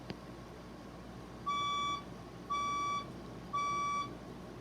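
A building fire alarm sounds during an evacuation, giving three loud, evenly spaced electronic beeps over a low background hum, with no voices.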